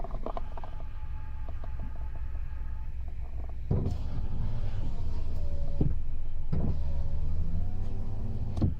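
The power rear window of a 2019 Toyota Tacoma TRD pickup hums as its electric motor runs twice in a row, a steady whine over a low idling rumble, close and moderately loud.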